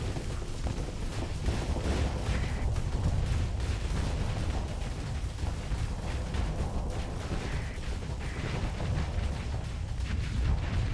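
Spaceship weapons in the video game Starsector, where battleships and a battlecruiser fight: an unbroken barrage of heavy booms and rapid crackling shots, loud and dense across the whole stretch.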